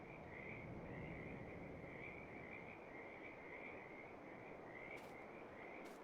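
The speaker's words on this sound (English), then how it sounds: "if you listen carefully, you can hear like the frogs chirping" Frogs croak and chirp in a steady chorus throughout the ambience of the Farming Simulator 22 video game, a faint, continuous layer of repeating calls with no talk over it.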